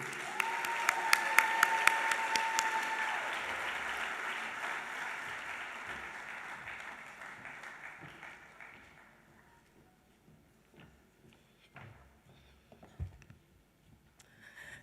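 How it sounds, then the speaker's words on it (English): Warm audience applause welcoming the Executive Chair of the African Trade Chamber at the Africa Trade Summit, loud and dense at first, then gradually fading to scattered claps over several seconds. "With a warm round of applause, please welcome the Executive Chair of the African Trade Chamber, Miss Benedicta Lasi"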